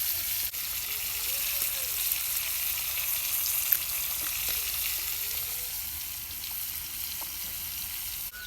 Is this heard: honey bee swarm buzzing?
no